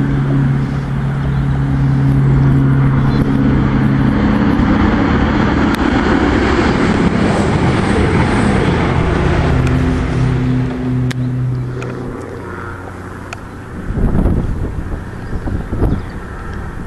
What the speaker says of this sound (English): Coming round the curve now is the 11:17 from London St Pancras to Nottingham.